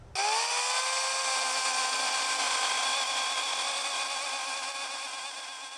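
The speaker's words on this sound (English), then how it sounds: "it seems like that Husqvarna just doesn't have enough power. It just gets hung up all the time." An underpowered Husqvarna chainsaw cutting storm-downed wood starts abruptly, climbs to a high, steady engine whine and holds it for several seconds, loud and close, easing slightly toward the end.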